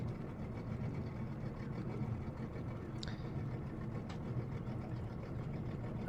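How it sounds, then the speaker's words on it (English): Idling boat engine in a dark scene of a horror video game, a steady low rumbling drone held throughout with faint higher clicks and ticks over it, no talk. "now we sit in darkness hearing the idling of a boat engine"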